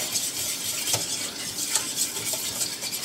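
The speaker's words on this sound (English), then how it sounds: "The trick to making a roux is you really want to keep stirring it." Flour and butter roux stirred steadily in a pan while cooking, giving a continuous soft scraping hiss with faint utensil taps, close and even, no talking.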